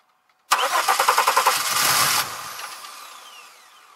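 A 2002 Chevy Malibu engine is cranked by the starter in a quick run of about a dozen rhythmic pulses, then catches and roars, its sound fading over the last seconds.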